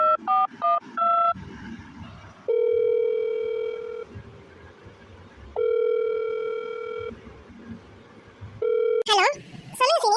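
A telephone number is keyed in with a quick run of dialing beeps, followed by long steady ringback tones separated by pauses, ending with a burst of warbling electronic tones, all clear and close.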